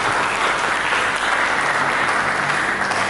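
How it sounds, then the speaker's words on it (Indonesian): Church congregation applauding during a Sunday sermon, a steady, dense wash of clapping from many hands that holds evenly loud throughout, with no talk over it. "Mari kita berikan tepuk tangan yang mulia."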